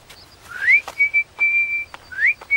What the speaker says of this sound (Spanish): ¿Por qué silbas?